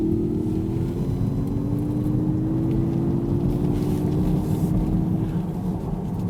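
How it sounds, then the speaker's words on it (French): Mazda MX-30 electric car producing a steady synthetic motor tone that rises gradually in pitch over a low rumble, continuous and fairly loud throughout. "J'ignore si c'est vraiment le moteur électrique qui fait ce son-là ou bien c'est généré artificiellement"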